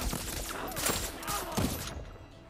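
Gunshots in the video game Deathloop, a dense clatter of rapid fire with bright impacts, moderately loud, fading out toward the end.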